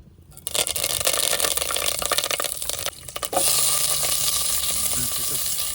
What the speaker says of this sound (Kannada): ಈಗ ಚಿಕನ್ ಫ್ರೈ ಮಾಡೋಣ ಅಂತ ಬೇರೆ ಪಾತ್ರೆ ತಗೊಬಂದ್ವಿ